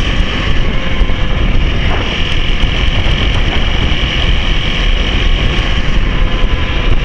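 Motorcycle riding on Guam: a steady, loud roar of wind and engine drones unbroken for the whole stretch, with no talking.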